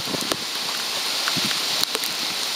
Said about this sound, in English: now it has turned into crazy winds and lots of rain.